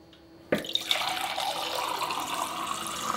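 Water from a reverse osmosis drinking-water faucet, fed by two tanks, starts abruptly with a splash into a sink and then runs as a steady, strong stream, close and alone.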